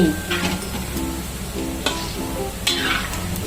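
Gram-flour boondi droplets sizzle in hot oil for motichoor laddu, a continuous close frying hiss with a few sharp scraping clinks of a utensil against the pan.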